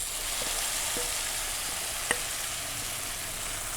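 Tomato pickle sizzles and fries in a hot pan in a steady, fairly quiet hiss, broken by a few soft stirring knocks and one sharper tap.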